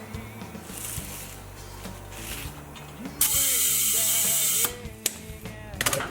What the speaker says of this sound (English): we've wrapped the ratchet strap around the tire, and by tightening it up it forces the beads out a little bit so that they'll make contact against the rim